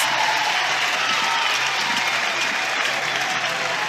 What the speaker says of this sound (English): Reigning All-American and getting a standing ovation right now